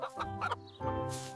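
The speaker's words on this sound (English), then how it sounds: "This is a chicken." A chicken clucks at a zoo, a few close, throaty calls in a quick run followed by a longer drawn-out squawk, heard alone.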